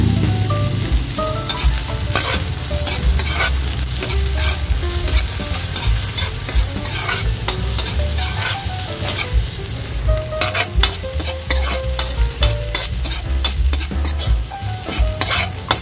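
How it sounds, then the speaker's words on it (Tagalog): Garlic, onion and ginger sautéing in hot oil, a loud, steady sizzle close up with frequent sharp clatters and scrapes of a spatula stirring the pan throughout. "At mainit na guys yung ating mantika, kaya ilalagay na natin yung ating mga ricado. Bawang, sibuyas at luya,"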